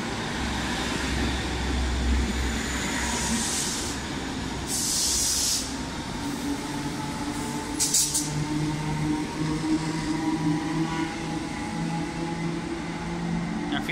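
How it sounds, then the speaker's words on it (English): A Pendolino train arriving at Liverpool Lime Street station, a long hiss and rumble of the train rolling in under the station hall, with a few sharp bursts of air or brake release and steady motor tones. "I'm turning around for Pendolino coming in."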